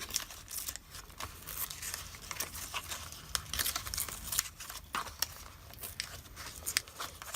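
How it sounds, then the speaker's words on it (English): Copy paper template being torn out along a row of sewing holes in a single-signature junk journal, a close, quiet run of crisp crinkling rips and tugs repeating steadily throughout. "So right at each of the holes, I'm going to tear, and then I'm just going to pull it."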